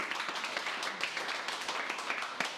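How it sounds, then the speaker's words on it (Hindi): Applause from the audience at a farewell and certificate ceremony for a mobile telecom training batch: a steady patter of many hands clapping, moderately loud and continuous with no talk over it. "तो तुम एक बार संजय के लिए जबरदस्त ताली बजाओ यहाँ पर"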